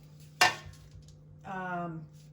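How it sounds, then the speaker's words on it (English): A metal roasting pan clanks sharply once as it is set down, then scrapes with a ringing metallic rasp a moment later, close and fairly quiet, over a low steady hum. "Okay, so here I have a roasting pan."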